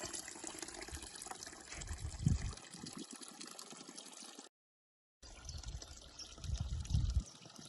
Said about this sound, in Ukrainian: Ось звідси бере початок джерело і вже річечкою тече по нашому городу.